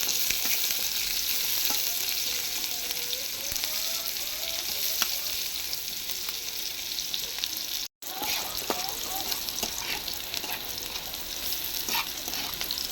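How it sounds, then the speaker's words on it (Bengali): Onions frying in a pan with a continuous dense sizzle and crackle, steady and close throughout, with occasional stirring scrapes and faint talk in the background. "এখন পেঁয়াজ ভাজি করতেছি"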